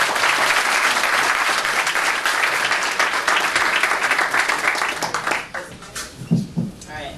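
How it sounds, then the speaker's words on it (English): A live audience at a music industry panel gives loud, dense applause for several seconds, then it fades out as a voice starts speaking near the end. "Give her a round of applause."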